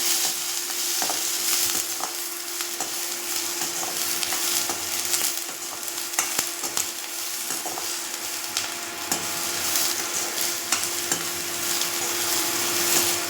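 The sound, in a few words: sautéing onion and curry leaves in a pan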